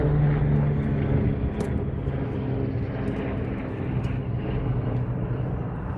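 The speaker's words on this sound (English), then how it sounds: "a helicopter goes past just when you don't need it" A helicopter drones past overhead at an apiary, a steady low rumble with whooshing rotor noise that stays loud and fairly close for several seconds.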